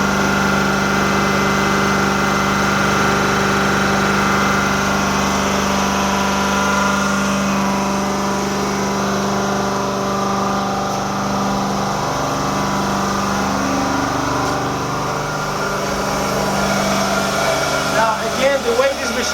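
An Amtex Inferno 500 heater runs with a steady, unbroken mechanical hum and whine. Its tone stays level throughout, with a brief rattle near the end.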